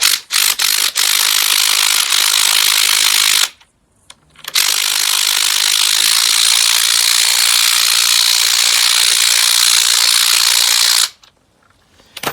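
A ratchet tightens a nylock nut onto the shaft of a BMW E92 coilover: loud, steady clicking bursts of about three seconds and seven seconds, with a short pause between them and a near-silent stop at the end.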